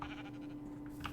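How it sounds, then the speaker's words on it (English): A Minecraft sheep from the Scape and Run mod gives a short bleat, fairly close and clear, heard alone in a brief burst. "they will infect the sheep."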